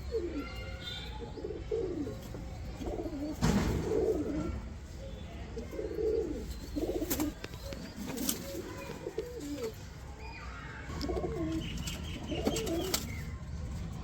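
Saharanpuri pigeons, including a Saharanpuri and border-cross female, coo repeatedly in a loft, soft throaty rolling calls coming in bursts nearby, mixed with occasional chirps, knocks and background voices.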